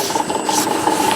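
A metal lathe running at 50 revs a minute takes a facing cut on a bearing race, giving a loud, continuous rasping scrape with a steady ringing tone throughout, with no talking.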